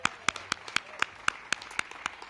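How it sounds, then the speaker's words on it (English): Clapping from an audience at a celebration of preserved affordable housing units, sharp separate claps in a loose steady rhythm, fairly close and sparse rather than a full roar. "Let's just clap for that."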